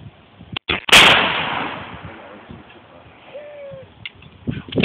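Rifle fired outdoors, one sharp, loud, close report with a short echoing decay, followed by quiet background and faint distant sounds.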